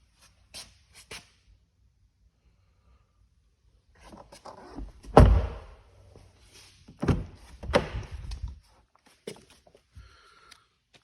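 A 2013 Audi S8's door is opened and shut, giving a few separated heavy thunks and latch clunks near the middle, with faint clicks and handling noises before and after in an otherwise quiet setting.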